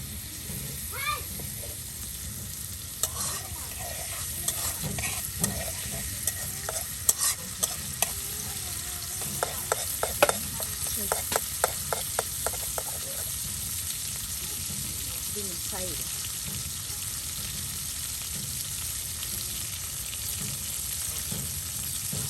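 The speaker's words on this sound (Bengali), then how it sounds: "রসুন কুচি, তার সাথে সকল প্রকারের গরম মশলা একসাথে দিয়ে তেলে এখন বাগার দেওয়া হবে।" Chopped garlic and garam masala spices frying in hot oil for a beef and papaya curry, a steady close sizzle with clinking stirring strokes in the middle, faint background voices.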